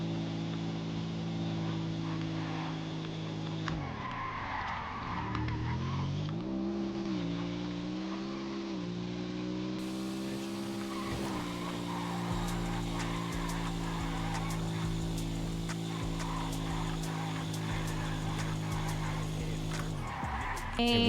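A motorbike engine in the video game GTA roars steadily, its pitch rising and falling through gear changes over a long stretch, loud and continuous with no speech.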